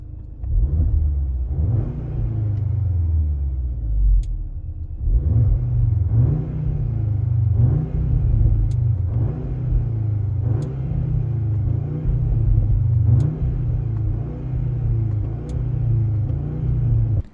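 An Audi S3 2.0 TFSI with a 333 hp turbo four-cylinder and an optional sport exhaust accelerates hard through repeated gear changes. Its deep engine and exhaust note climbs and drops in a steady rhythm, loud and close.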